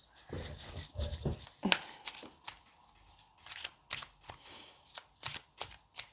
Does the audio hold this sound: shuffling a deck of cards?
yes